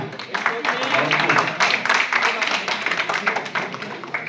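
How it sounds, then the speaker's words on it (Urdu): Dense, continuous applause from an audience at a literary session of the Urdu Department, University of Hyderabad: many hands clapping quickly and fairly close, holding steady throughout. "تالیاں"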